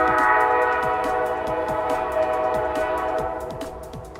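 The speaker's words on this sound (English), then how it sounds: "there's our train" A train passes close by, its horn sounding with steady sustained tones over rhythmic wheel clicks on the rails, loud throughout and easing slightly toward the end.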